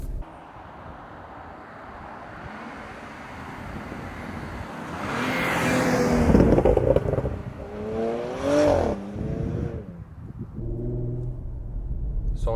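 A Porsche Macan GTS, a 380 hp SUV, drones under load before its engine swells and revs up through gear changes, climbing in pitch twice with brief dips between, loud and close without talk.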